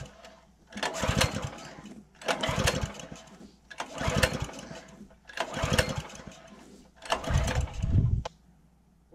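A petrol engine is pull-started five times in a row, each roughly one-second yank producing a rough sputtering turnover that dies without catching, separated by short quiet gaps.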